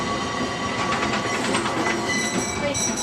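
Katoomba Scenic Railway train approaching along its track, a steady loud rumble and rattle of rolling wagons filling the whole stretch without pause.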